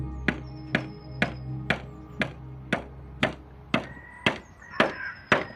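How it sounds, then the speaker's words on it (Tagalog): Repeated pounding on wood outside a hut: about a dozen sharp, evenly spaced knocks, each a hard thwack, nearby and loud over a low background hum. "naabutan ko siyang may pinupukpok na kahoy sa labas ng kubo"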